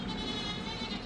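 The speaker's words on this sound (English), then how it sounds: "Loudest goat in the history of the world right there." A mini Nubian goat lets out a loud, sustained, wavering bleat that fills the whole moment, close and strained, with no one speaking.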